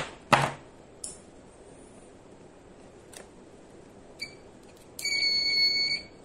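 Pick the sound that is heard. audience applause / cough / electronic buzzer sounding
electronic buzzer sounding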